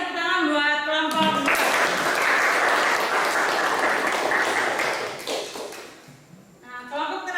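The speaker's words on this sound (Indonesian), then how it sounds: "tepuk tangan buat kelompok." Classroom applause for a student group after a presentation, a burst of dense clapping lasting about four seconds, preceded and followed by soft tones.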